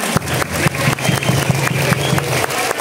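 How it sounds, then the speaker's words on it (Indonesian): Schoolchildren applaud at an elementary school waste-sorting event, rhythmic group clapping in repeated bursts, loud and close, with no talk. "Tepuk tangan untuk kita semuanya."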